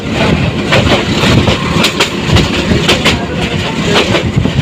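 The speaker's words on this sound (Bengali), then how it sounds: "তো ট্রেনটি মোটামুটি গতি তুলেছে এই যে দেখতে পাচ্ছেন বেশ গতিতে ছুটছে" The Surma Mail, a small local train in Bangladesh, runs through Bhairab Bazar Junction and gathers speed. From on board, a loud rumble carries rhythmic clickety-clack wheel beats over the rail joints.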